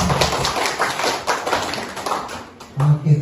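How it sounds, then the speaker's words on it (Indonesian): An audience claps after a school vision-and-mission presentation at a state senior high school in Kupang Timur. Scattered, fairly close hand claps run for a few seconds, and a voice cuts in near the end. "mari kita tepuk tangan semua"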